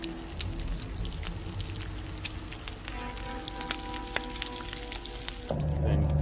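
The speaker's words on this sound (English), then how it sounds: "Gonna cook all this meat, hopefully." Meat sizzling as it cooks in The Long Dark survival game, a continuous crackling fry that holds steady and grows slightly louder near the end, heard alone.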